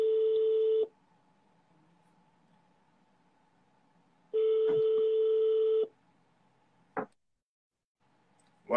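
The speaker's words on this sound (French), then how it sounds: "Il va l'appeler par téléphone." Phone ringback on an outgoing telephone call: two long, loud tone bursts about three seconds apart over a faint hum, followed by short clicks and a brief silence.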